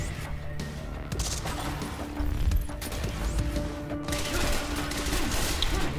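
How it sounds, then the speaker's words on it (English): Enemy gunfire in the video game Quantum Break: bursts of shots crackle and rattle across the scene amid ongoing game noise, with louder volleys toward the end. "Who's that now shooting at us?"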